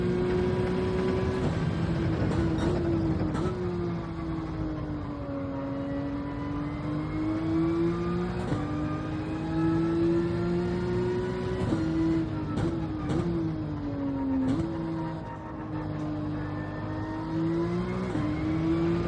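A GT3 race car engine in a racing video game at the Catalunya circuit runs at full throttle, climbing through the revs with repeated upshifts and brief lifts, a loud continuous close-up roar with no voices.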